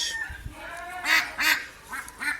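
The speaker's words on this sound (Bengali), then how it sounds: "আপনারা দেখতে পারা আমার ফার্মর পিকিং স্টার হাঁস" Several Pekin (Peking Star) ducks on a farm quack in short, repeated bursts, fairly close, with about four distinct calls over a steady background of farmyard noise.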